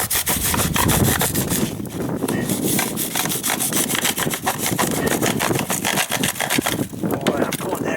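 A saw cutting through a sheet of sheetrock laid flat: rapid, rhythmic rasping strokes, loud and close, continue without a break throughout.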